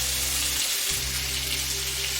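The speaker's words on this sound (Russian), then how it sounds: "ждем, пока лук обжарится на одной стороне" Onions frying in a pan give a steady, even sizzle over a low hum, close and fairly loud, with no voices.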